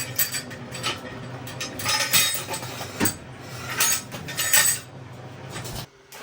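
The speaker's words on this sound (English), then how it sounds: "I'm going to place this stanchion under the hole" A steel stanchion is set in place beneath a hole in a wall during lintel installation, giving a series of close metallic clinks, knocks and scrapes at an uneven rhythm, no voices.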